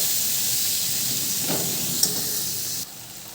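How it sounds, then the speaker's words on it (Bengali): Spices and ginger frying in a pan give off a steady, close hiss of sizzling oil that continues throughout, with a single small tap partway through and no voices. "মশলাটা আদা ভাজা হয়ে গেছে"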